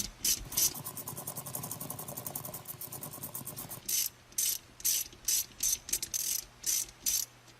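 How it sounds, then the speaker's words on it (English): A 7mm socket ratchet tightens a shifter bolt to push out a roll pin: steady fast clicking for about four seconds, then a series of short, separate bursts of ratcheting, close and clear with no talk. "We'll grab our 7mm socket, and we'll just start tightening that up until that roll pin wants to come out of there."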